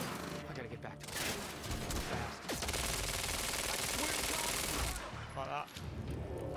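Dense burst of bullets fired all at once in the Quantum Break video game, a loud sustained roar of overlapping gunfire with crashing impacts, building then cutting off, followed by quieter game sounds.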